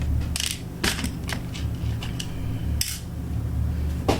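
A screwdriver turns out worn screws from a PC case, making close clicky ratcheting and metallic scraping bursts in an irregular rhythm with brief pauses and no voices.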